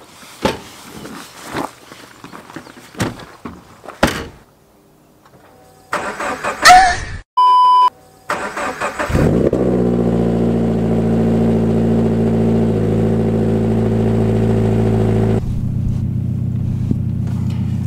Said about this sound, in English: I'm gonna do the cold start now.